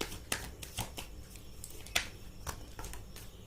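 Tarot cards shuffled by hand during a reading, a few scattered sharp card snaps and soft riffles over a low background hum, close and quiet, without talk.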